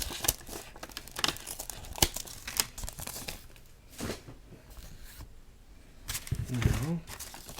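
A Dynamat sound-deadening sheet is cut and handled near the back of a circuit board, giving close, faint crinkling and tearing scrapes in irregular bursts.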